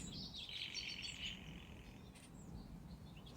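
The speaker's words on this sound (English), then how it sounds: "Many, many birds." Many birds chirping together, a thin bright twittering that rises early and fades, heard fairly faint over a soft ambient hiss.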